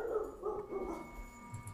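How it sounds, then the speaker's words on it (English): Dogs in the background during an online ham radio class meeting, a few soft distant yips and whimpers in quick succession. "you're going to have to put up with my dogs in the background"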